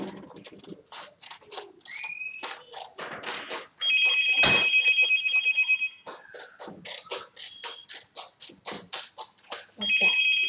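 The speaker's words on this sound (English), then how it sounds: "Okay, that's just my phone." A mobile phone rings indoors in short repeated electronic tone bursts, sounding twice between stretches of a person talking and paper handling nearby.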